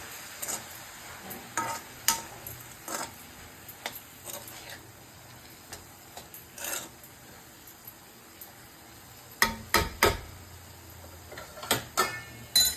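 Chopped banana flower with salt and turmeric gets stirred in a pan, a spoon scraping and clicking against the metal in irregular bursts over a quiet background, busiest near the end.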